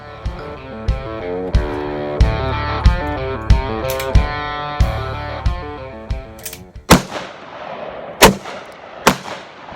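Heavy, sharp gunshots from a Smith & Wesson Model 69 .44 Magnum revolver with a 2.75-inch barrel, fired outdoors as about a dozen loud cracks at a steady pace, each leaving a short rumbling echo.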